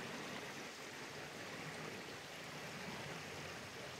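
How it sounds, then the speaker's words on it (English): Running stream water outdoors in summer, a steady, even rushing and trickling wash that stays constant throughout at a moderate, fairly faint level with no voices. "I'm right by a running water"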